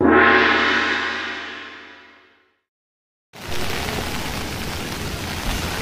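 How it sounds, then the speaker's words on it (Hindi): Heavy rain pouring at Nainital, a dense steady hiss that fills the second half after a brief silence, loud and close. "बारिश हो रही है बहुत तेज"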